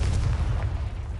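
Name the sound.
Confringo fire-blast spell explosion in a video game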